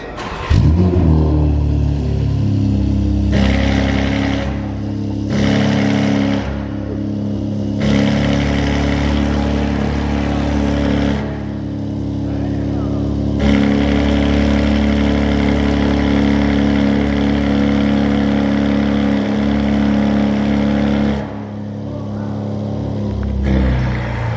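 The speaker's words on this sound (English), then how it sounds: "start up the G82 for us" BMW M4 G82 engine at a car meet fires up and revs, a loud, sustained throaty roar with repeated rises and dips in pitch as the throttle is blipped, no talking over it.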